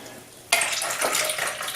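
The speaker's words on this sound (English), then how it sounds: "So now if I take this soda right here, and remember this is diluted now, it's not even full strength, and I put this into the Kangen water," Soda is poured into a glass of electrolyzed Kangen water, a sudden fizzing, splashing rush that starts abruptly and continues steadily close by.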